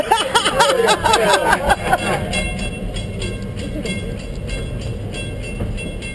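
A train rolls past in a steady, rumbling wash of wheels and rail noise during a 2012 Florida trip, with faint voices and clatter early on over the continuous low roar.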